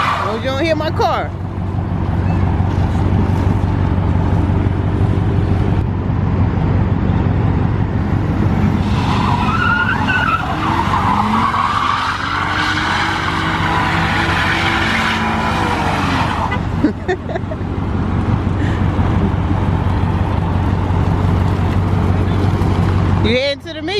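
A Dodge Charger Hellcat engine rumbles loudly and revs up through a rising, roaring supercharger whine in the middle, then settles back to a steady idle.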